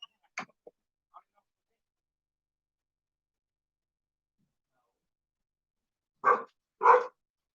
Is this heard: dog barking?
yes